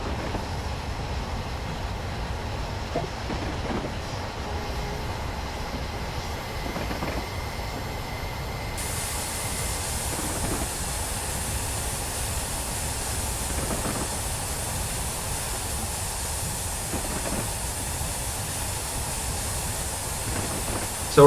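Flying Scotsman steam locomotive running on the East Coast Main Line in Train Simulator 2015, a steady low rumble and hiss with periodic soft rhythmic beats, continuous and even without voices.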